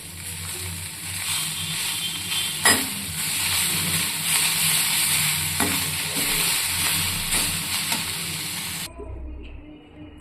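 Fenugreek leaves fry and sizzle in a pan under a steady hiss, with occasional stirring scrapes; the sizzling stops abruptly near the end.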